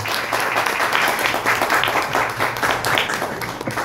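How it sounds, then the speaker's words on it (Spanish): Audience applause at a talk on contactism, steady dense clapping throughout with faint crowd murmur underneath. "Vamos a darle un aplauso."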